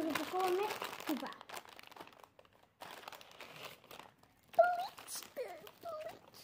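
A package being unpacked, with soft plastic crinkling and rustling in bursts under someone talking close by.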